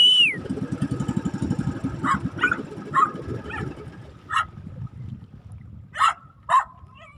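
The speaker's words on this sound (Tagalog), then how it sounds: "Narito si Han, yung ating aso" Han, a dog at a tilapia fish pen, lets out a series of sharp, separate barks and yips spaced a second or so apart, following a low rumbling engine near the start; outdoors and fairly close.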